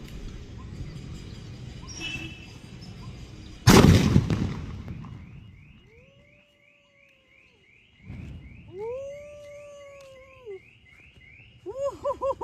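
A 1 kilo paper atom bomb firecracker bursts for Diwali with one sharp, loud blast that decays over about a second. Quiet follows, then an alarm-like rising tone and whistling calls.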